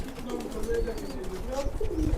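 Several pigeons coo in low, rolling murmurs close by, with a continuous hum of birds and a faint voice in the background.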